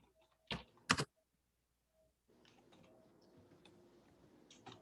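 Someone types on a computer keyboard: two loud clacks, a pause, then a steady stream of soft, quick key taps continuing close by, with no talk.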